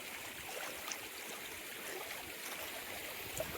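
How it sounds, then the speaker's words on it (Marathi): A stream flows down from higher ground through a farm, giving a faint, steady rushing trickle with no other clear sounds. "तर वरनं पाणी येतंय"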